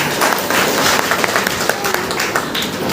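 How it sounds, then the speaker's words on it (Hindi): Loud, dense applause from a crowd at a meeting in Basti fills the whole stretch as a steady wash of many hands clapping at once, with a few sharper claps standing out. "थैंक यू आकरुल भाई जी के लिए जोरदार ताली।"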